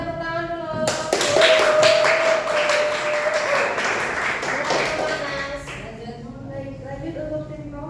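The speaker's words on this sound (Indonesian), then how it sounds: "Kasih tepuk tangan dulu" A burst of clapping from a crowd swells quickly, holds for several seconds, then fades out as a voice speaks over the end.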